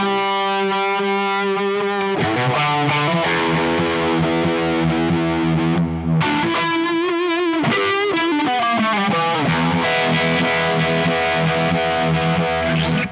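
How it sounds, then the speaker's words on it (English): Electric guitar through a Univibe modulation pedal placed before the overdrive: loud, continuous distorted chords and notes with a swirling, throbbing chorus-like wobble, played alone without talk. "I like the sound of the modulation pre-overdrive"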